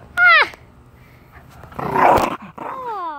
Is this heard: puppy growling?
yes